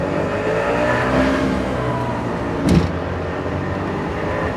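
A Trabant with a two-stroke engine up front drives along, giving a steady, droning engine and road roar heard from inside the car, with one brief louder thump partway through.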